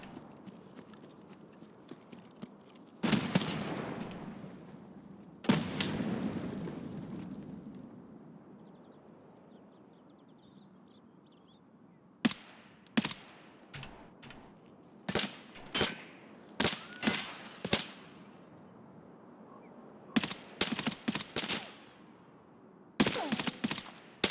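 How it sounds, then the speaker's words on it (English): Gunshots in the video game Escape from Tarkov on the Shoreline map, sharp cracks in scattered single shots and quick clusters, some distant with echoing tails, others close and rapid, with no talking. "Here's some fresh shots."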